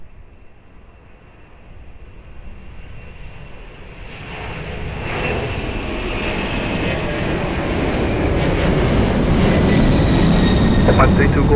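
A jet airliner takes off at Lisbon Airport, its engine roar building from a distant rumble to a loud, broad, sustained thunder as it gains power.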